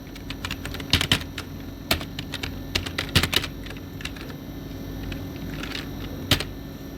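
Computer keyboard typing while writing in MS Word, scattered bursts of crisp keystrokes with pauses between them, including a few heavier key presses, close and with no talking.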